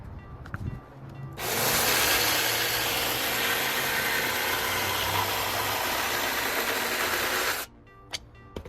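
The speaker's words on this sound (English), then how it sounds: "now I just need to cut it out with the jigsaw." A jigsaw cuts through drywall around a plumbing access panel and dryer exhaust opening, a loud continuous buzzing rasp that starts abruptly, holds steady for about six seconds, then stops with a few faint knocks after.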